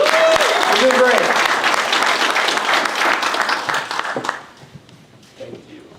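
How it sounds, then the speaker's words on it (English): Audience at a Future Cities hackathon applauds in a dense, close burst of clapping for about four seconds, then trails off to a few scattered claps, with voices audible underneath. "how about a round of applause for these guys so far"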